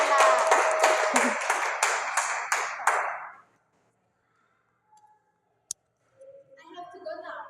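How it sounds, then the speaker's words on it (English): Applause for two students in an English class, a burst of rapid close hand clapping that stops abruptly after about three seconds, followed by near silence, one sharp click and then faint talk. "please give applause for Devita dan Hana."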